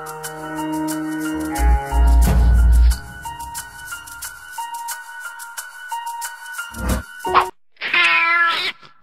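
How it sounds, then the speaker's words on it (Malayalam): A cartoon cat meows in a Malayalam animated children's film, with several drawn-out, wavering cries over a playful musical backing, loud and up front. "ചക്കിപ്പൂച്ച രക്ഷപ്പെട്ടു മാമ"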